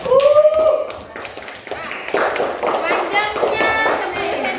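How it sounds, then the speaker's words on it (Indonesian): Children in a classroom clap their hands for a classmate, a brief burst of dense, close clapping that follows a teacher's voice. "Beri tepuk tangan untuk Fadli dulu."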